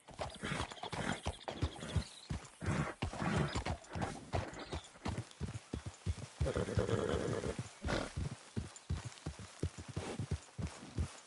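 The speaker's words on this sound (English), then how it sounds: "Is that my horse?" A horse in a video game moves at close range, with repeated hoof clip-clops and rustling in a dense, busy mix that runs throughout.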